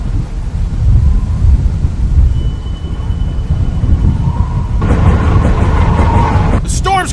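Storm with wind and thunder in a dramatic outdoor scene: a loud, steady roar of wind and low rumbling continues throughout, and near the end a rattling, squealing clatter cuts in.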